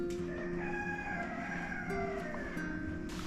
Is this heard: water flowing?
no